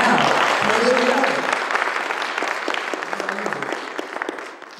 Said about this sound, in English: give him a clap offering right now.